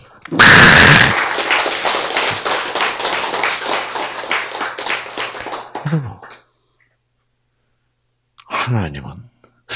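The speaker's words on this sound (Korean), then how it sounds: "박수!" An audience breaks into a burst of applause, loud sharp clapping that fades out after several seconds, with a voice speaking over it before a pause and more talk.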